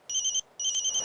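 Two short bursts of an electronic phone ringtone announce an incoming call. Each is a bright trilling warble, close and clear, with a brief gap between them.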